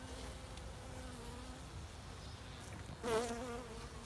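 Honeybees buzzing at a queen bee box wintering in early January: a steady, faint, close insect drone throughout, swelling briefly louder near the end as bees pass close by.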